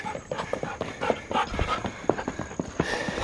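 A husky wearing dog shoes walks on a hard surface, its feet making a quick, irregular series of clip-clop taps like horse hooves, close and fairly loud over background noise.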